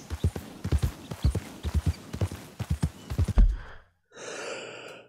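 A horse's hooves walk in Red Dead Redemption 2, a steady clip-clop of close, regular footfalls, followed by a horse's breathy snort and exhale as the steps stop.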